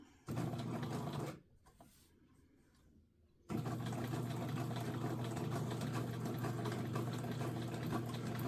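Sewing machine stitches a tote bag made from 4-inch squares, running in a steady loud hum, pausing for about two seconds with faint handling, then running again continuously.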